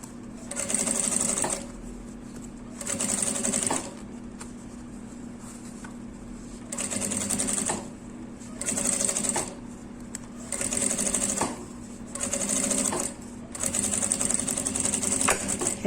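A sewing machine stitches a fabric lining for an essential oil holder in repeated bursts of fast whirring, about eight runs of one to two seconds each, with pauses between them and low hum throughout.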